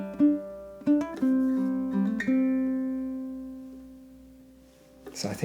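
Ukulele playing the last two chorus bars of a song: a quick run of plucked notes, then one long sustained note ringing out and fading for several seconds, ending with a brief soft noise.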